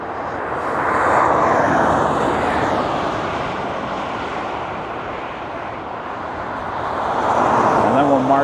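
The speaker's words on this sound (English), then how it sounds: "Condor, A330 Neo in the green stripe" A Condor Airbus A330neo airliner in green-stripe Green Island livery roars past near LAX, a broad, loud engine rumble that swells, eases slightly, then builds again over steady background noise.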